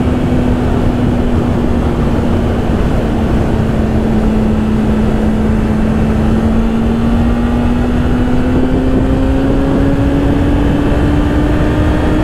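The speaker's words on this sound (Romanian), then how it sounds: "bate vântul foarte tare" Strong wind buffets a motorcycle on the road, a loud constant roar of air blast mixed with a steady engine drone that rises slightly in pitch toward the end, with a novice passenger aboard.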